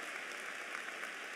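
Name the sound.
audience applause at commencement ceremony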